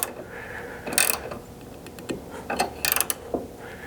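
Ratchet clicks in short bursts while tightening a ditch light mount on a Ford Maverick, with quick sets of close mechanical ticks separated by pauses.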